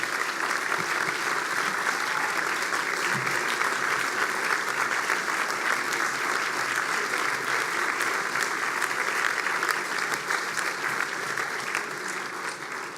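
Sustained, loud applause from an audience at an award ceremony, a dense steady wash of clapping continuing for the whole stretch with no break.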